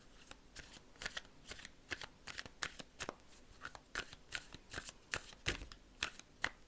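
Oracle cards being shuffled with some falling, rapid crisp flicking and slapping of card stock in quick irregular bursts, close and quiet.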